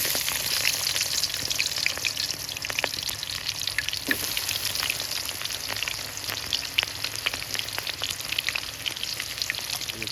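Onions fry in hot oil for meat cooking, a steady, dense sizzle and crackle with scattered pops, continuous and close throughout.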